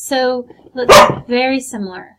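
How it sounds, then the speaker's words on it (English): A dog barks loudly nearby, a few sharp harmonic barks overlapping a man's speech in an indoor room. "Apologize for the dog bark."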